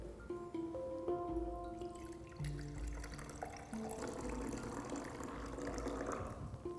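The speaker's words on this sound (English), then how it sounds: "I am going to decant the clear liquid into a fresh beaker." Clear treated water, separated from settled sludge, is decanted into a fresh beaker; a steady liquid pour runs through the clip over a background of sustained tonal hum, with no talking.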